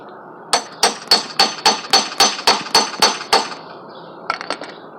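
A hammer strikes a chisel on a garden box, about eleven evenly spaced, sharp metallic blows ringing close and loud, followed by a short pause and a few quicker, lighter taps.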